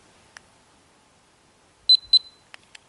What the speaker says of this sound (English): press and hold the button on iTag for 3 seconds until you hear the beep twice